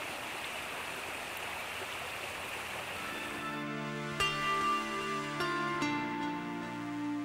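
A river in the Ahrntal valley of South Tyrol rushing over a stony bed, a steady broadband wash of water that gives way midway to ringing musical tones laid over it.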